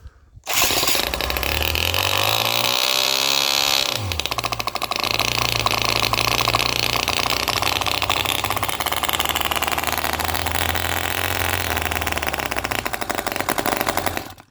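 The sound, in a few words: OKMO R32 miniature Harley Shovelhead petrol engine running, throttle changes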